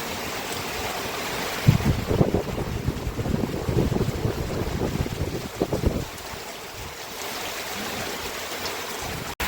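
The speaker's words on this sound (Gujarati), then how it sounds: "વરસાદ ઓછો છે પણ વાવાઝોડું વધારે" Strong windstorm in Banaskantha, Gujarat, roars in gusty bursts against the microphone, loud and buffeting for several seconds before easing into a steadier rushing blow.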